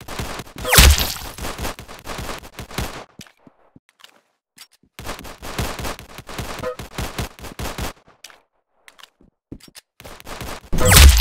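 Guns fire in Roblox Arsenal during a one-on-one match, with rapid clusters of sharp shots in two loud bursts separated by near silence, and a few isolated impacts.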